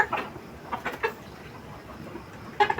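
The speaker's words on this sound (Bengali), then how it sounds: "একটা মুরগি ধরছি, দেখতে পাচ্ছেন।" A young desi chicken clucks and squawks in short, agitated bursts as it is grabbed by hand, close by, with quiet gaps between the calls.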